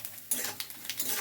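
Nigella seeds and garlic stirred in a hot pan over lowered heat, a spoon scraping and clinking against the metal in a few quick, close strokes with a soft sizzle underneath.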